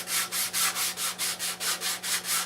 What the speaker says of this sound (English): taking my 320 and just giving it a little scuff coat, get rid of all the dust nibs